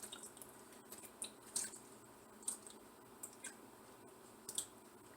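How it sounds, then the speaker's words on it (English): Canned diced tomatoes pour into a pot for chili and spaghetti sauce, giving faint, wet squishing plops and drips at irregular intervals close by. "Then I'm going to add about half a can of diced tomatoes."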